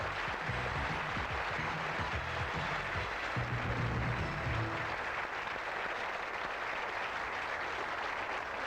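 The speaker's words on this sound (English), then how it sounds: "Give them a round of applause" A studio audience at the Going for Gold 1989 European final applauds in a dense, sustained burst of clapping that holds evenly throughout, with no voices over it.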